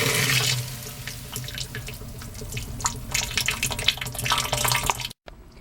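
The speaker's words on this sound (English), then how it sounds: "I'm also going to add in a simple syrup that's 50-50 water." Simple syrup of equal parts sugar and water is poured into homemade transparent soap, a continuous splashing trickle of liquid close by, steady for five seconds before cutting off abruptly.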